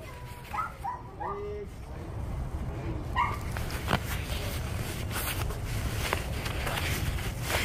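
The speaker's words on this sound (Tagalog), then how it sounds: "Ay, ang cute ng aso." A dog gives a few short yips and whimpers outdoors on a Halloween evening in Canada, brief and moderately near, mixed with footsteps and background chatter.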